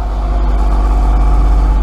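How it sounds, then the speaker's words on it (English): A sailboat's inboard engine runs steadily at about 2,000 revs under way with the headsail out, a loud continuous low drone and rumble throughout with no talking. "Engine's on"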